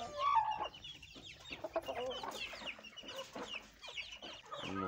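Lasani chickens cluck and call steadily at close range, a busy overlapping stretch of farmyard fowl sounds with no talking.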